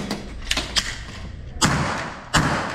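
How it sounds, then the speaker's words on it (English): A few sharp, loud bangs ring out, two stand out strongly near the end, with fainter cracks earlier, echoing over a noisy background. "I've never heard gunshots before, so it was quite eye-opening and jarring."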